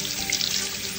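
Hot water runs steadily from a tap into a sink, a continuous broadband hiss and splash that stays even and close for the whole short moment, with no voices over it.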